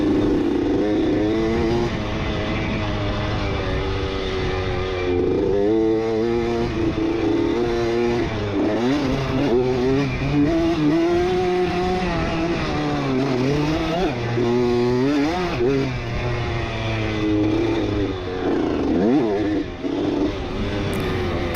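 Honda CR80 dirt bike engine screaming through a motocross race at Splinter Creek, heard from the rider's seat as a continuous high, buzzing two-stroke wail rising and falling with throttle and gear changes, loud and steady throughout.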